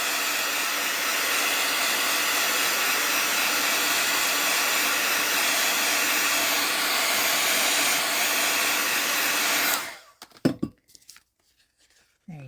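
A heat tool dries craft ink on a paper card, blowing a loud, steady whooshing roar for about ten seconds before it switches off, followed by a few brief handling rustles.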